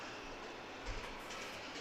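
Rear of a Z freight train rolling past trackside, a steady broad rumble and rattle of railcars that swells briefly near the middle, with no one talking.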